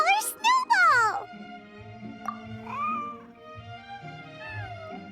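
A cartoonish white cat meows in a video game, several high, drawn-out mews near the start followed by softer cries, with a voice speaking over them and light background music.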